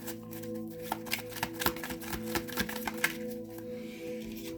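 A deck of tarot cards riffles and shuffles close up in a quiet room, a run of quick papery flicks and soft taps with no voices, over a faint steady background hum.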